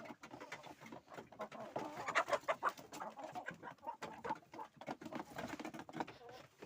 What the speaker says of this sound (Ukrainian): Бачите, в першу очередь вибігли півні